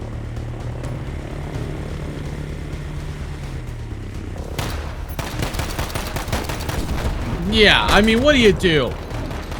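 Gunfire and a tank rumble in a Warzone match. A long mechanical drone gives way to a rapid burst of shots, followed by sharp whining tones, while someone talks over it.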